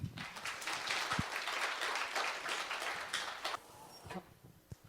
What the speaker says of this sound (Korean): 그러면 뜨거운 박수로 연사분의 연설을 청해 듣도록 하겠습니다.